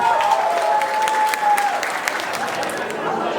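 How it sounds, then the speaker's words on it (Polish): A wedding crowd in Poland claps loudly for the groom, with dense, continuous applause and a brief whistle or tone cutting through near the start. "Poproszę wielkie brawa dla pana młodego."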